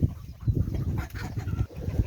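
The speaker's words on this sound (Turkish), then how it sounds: "bu arada horozlar da birbirini yemeye çalışıyorlar herhalde" Roosters squabble nearby, giving low, rough clucks and agitated grunting calls in uneven bursts, close and moderately loud over a muddy background.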